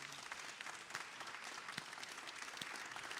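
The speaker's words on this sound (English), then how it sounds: "Let's give Jeremy a round of applause, and thank you." A congregation applauds at a Friday night Shabbat service, a soft, somewhat distant patter of many hands clapping steadily with a few sharper claps standing out.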